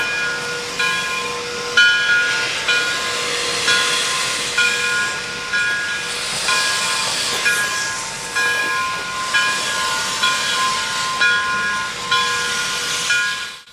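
A J. Neils Lumber Company Shay No. 5 steam locomotive on a heritage railway line gives off steady steam hiss with regular chuffing pulses and faint whistle-like tones as it rolls along.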